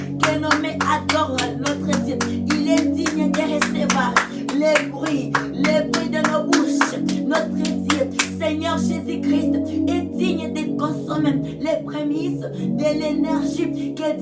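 A worship congregation claps hands in a steady, regular beat, loud and sustained throughout, over music and singing.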